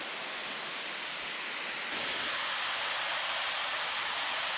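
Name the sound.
Bonaparte waterfall rushing water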